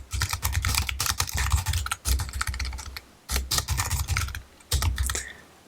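Computer keyboard typing of code, close and distinct, with quick bursts of keystrokes separated by short pauses, no talk over it.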